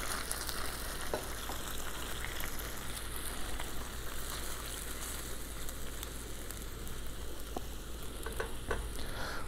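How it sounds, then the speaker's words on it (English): Vegetable stock and oat milk in a pan on a camper-van stove begin to simmer, giving a steady, close, even sizzle and bubbling hiss with occasional faint clicks, and no voices. "I'm gonna add a little bit of my oat milk, and that's gonna start to simmer."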